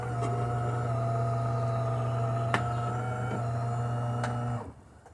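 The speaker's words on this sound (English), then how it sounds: "here we have that beautiful shot of espresso coming out of this machine." A refurbished Delonghi Magnifica XS espresso machine brews a shot, its pump giving a steady, loud electric hum with faint clicks, running evenly before cutting off abruptly near the end.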